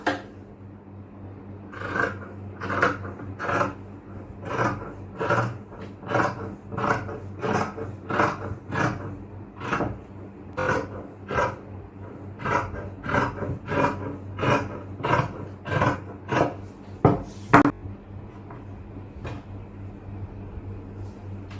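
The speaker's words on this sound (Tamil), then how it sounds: "இப்ப நம்ம அதை கட் பண்ணி எடுத்துக்கலாம்" Scissors snip repeatedly through marked inskirt fabric pieces, a long run of quick, crisp cuts in a steady rhythm, close and fairly quiet with no talking.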